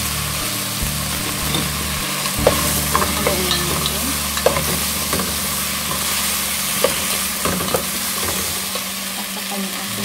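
Eggplant, green beans and tomatoes stir-fried in a pan, a continuous sizzle with intermittent scraping and clacking spatula strokes, close and moderately loud, with a low background hum and no talking.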